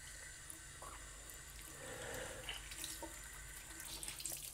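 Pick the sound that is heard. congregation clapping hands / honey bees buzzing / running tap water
running tap water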